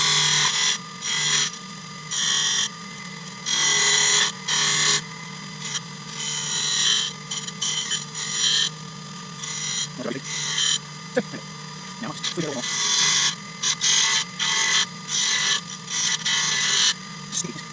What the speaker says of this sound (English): Here we go, more spindle turning.